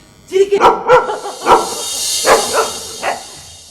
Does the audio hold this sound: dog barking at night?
yes